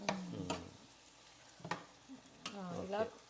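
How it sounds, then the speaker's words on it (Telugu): Wild-caught Atlantic salmon fries in oil in a pan, a steady close sizzle running under a man's speech that comes in short bursts. "చేపల ఫ్రై కొద్దిగా బాయిల్ అవుతూ చేసుకోవడం"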